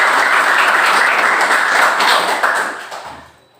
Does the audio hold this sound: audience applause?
yes